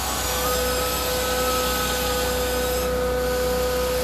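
A carpet cleaning extractor wand runs with its trigger held on, giving a loud, continuous suction roar with a steady whine and a slight shift in tone as the wand moves.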